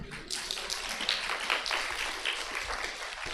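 Children in a summer camp class clap together in a brisk, uneven burst, close and fairly quiet, with scattered voices mixed in.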